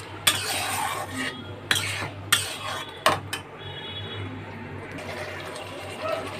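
A spatula scrapes and clatters in a pan as fried eggplant is stirred into a spice paste, with a few sharp knocks early on over a steady low kitchen hum.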